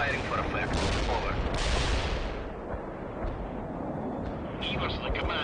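Artillery barrage in the World in Conflict: Soviet Assault battle game, a dense, continuous rumble of heavy fire with booming bursts, loud and sustained, with faint radio-style voices in the mix.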